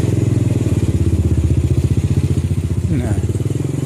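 A motorcycle rides through a narrow alley in Bogor. Its engine putters loud and close with an even, rapid thumping pulse that continues throughout.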